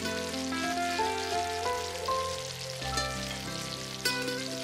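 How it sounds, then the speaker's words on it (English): Onion tomato curry gravy goes into a hot pan and is stirred, giving a steady bubbling sizzle with soft scraping and clinks, close and fairly loud throughout. "Give it a nice stir."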